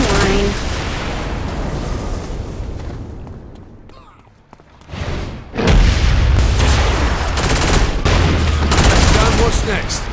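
Loud, dense gunfire and booming blasts from Saints Row IV game action fill the scene, dipping briefly to near quiet midway before surging back at full intensity, with voices mixed in.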